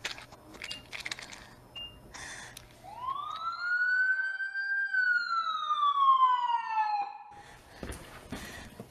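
A single ambulance siren wail rises sharply, holds for a few seconds, then slowly falls away. It is loud and clear with no voices.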